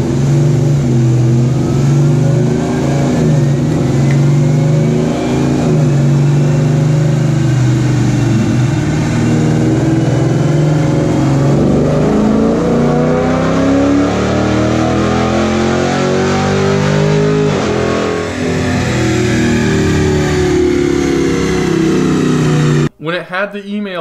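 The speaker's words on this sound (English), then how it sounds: "I'm going to show you guys a clip of the car on the dyno when it had the email tune installed." A cammed Dodge Charger R/T runs on a chassis dyno, its engine note sweeping steadily upward through a long, loud, sustained pull before cutting off abruptly near the end.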